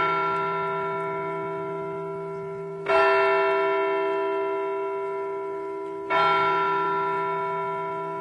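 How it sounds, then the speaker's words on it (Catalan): A church bell tolls slowly and loudly, three deep ringing strikes spaced about three seconds apart, each one humming out in a long fading resonance. "una campana sorda els va despertar. Era un repicar lent i parsimoniós."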